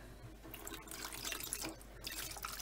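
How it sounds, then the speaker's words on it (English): Excess water squeezed from a sponge into a bucket while cleaning the sump of a Bosch dishwasher, a soft, steady trickling and splashing that stays close and fairly quiet throughout, with no talking. "and just squeeze that into a bucket."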